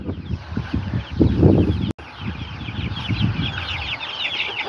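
Several chickens on a farm in Aklan, Philippines, cluck and murmur close by in a steady, busy chatter on a cold, windy morning, with a brief dropout partway through.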